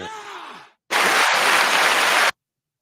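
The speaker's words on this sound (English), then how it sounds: "Big claps." Big burst of applause and cheering from a crowd lasting about a second and a half, loud and dense, coming right after a short stretch of voice that fades out.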